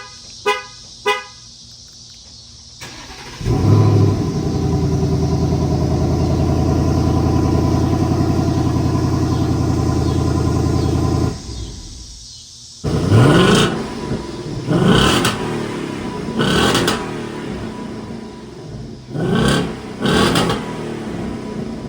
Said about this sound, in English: Let's do a cold start real quick though, so you guys can see how it sounds stock versus with the exhaust